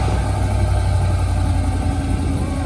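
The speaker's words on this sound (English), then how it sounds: "Got the muffler delete on this 2021 Silverado." Deep, steady rumble from a 2021 Chevy Silverado idling with its muffler deleted and a straight welded pipe, loud and close with a low throbbing exhaust note and no talking.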